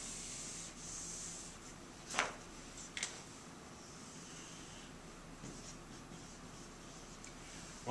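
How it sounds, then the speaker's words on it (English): A line being drawn on a board during an economics lecture, a soft continuous rubbing scratch with a couple of brief taps, faint and close, with no talking. "We're going to draw a line that looks like that."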